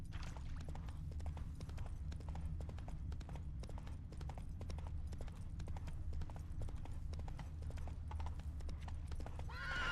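A video-game horse named Roach walks with steady, close hoof clip-clops throughout, with a whinny standing out from the rhythm; no one speaks.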